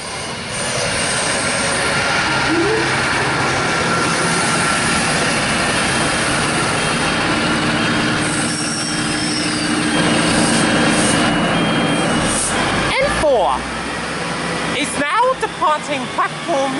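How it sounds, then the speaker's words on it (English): A Sydney Trains service, set N4, bound for Central pulls into platform 1 at Tahmoor station with a loud, sustained engine and wheel roar, then a squeal of brakes as it slows near the end. "We have a Central Sydney Terminal service arriving on the platform number 1. N4 is the set."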